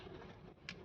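A pet bird in a home garden gives a short cooing call, brief and soft against a steady background hiss.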